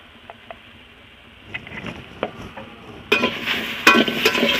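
Chili powder sizzling over high heat in a hot pan while being stirred, quiet at first, then a louder burst of frying and scraping in the second half, no voices.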